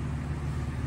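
A flood-damaged Buick Riviera's 3800 V6 engine idles with a steady low rumble, smooth and continuous, heard up close with no voices.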